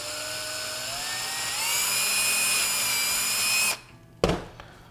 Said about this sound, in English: And now we can drill it out with our 1/8 inch bit.